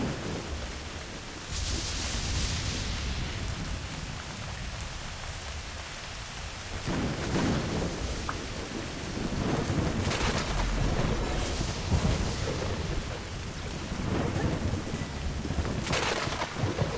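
Heavy rain and rolling thunder in the video game Kena: Bridge of Spirits, a steady downpour hissing throughout with several deep thunder rumbles and cracks rising over it across the stretch.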